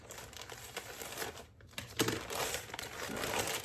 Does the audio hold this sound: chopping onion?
no